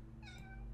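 A single short cat meow from The Sims 3, clear and moderately close, heard alone against a quiet game background.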